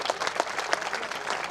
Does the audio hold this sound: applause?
yes